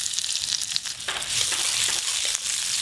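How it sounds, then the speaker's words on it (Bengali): Chopped onions hit hot mustard oil with dried red chilli, giving a loud, close, continuous sizzle and crackle that grows fuller partway through. "ফোড়ন তো হয়ে গেল, এবার পেঁয়াজ কুচি দেব।"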